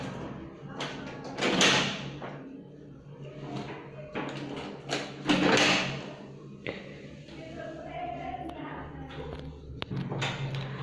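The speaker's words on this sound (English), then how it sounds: "The window door opens 180 degree." A window-style door with multiple locks swinging open and shut, giving a few dull thumps and latch knocks spread across the stretch, mid-distance and moderate in level over a faint room background.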